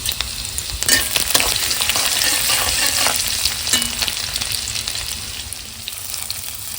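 Garlic and ginger crackle and sizzle loudly in a hot pan, punctuated by a few scraping stirs.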